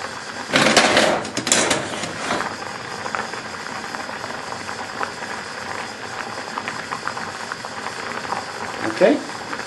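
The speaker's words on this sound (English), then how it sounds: "Look inside the chicken pan, see it bubbling." Chicken curry bubbles and simmers in a pan, a soft, continuous boiling hiss with a few louder bursts of sizzling near the start, while a person talks over it.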